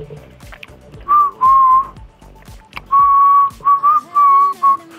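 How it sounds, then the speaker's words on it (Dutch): Someone whistles a melody nearby in short bright phrases, with faint clicks and movement in the background. "hetgene wat ik fluit is het liedje wat ik in mijn oren hoor"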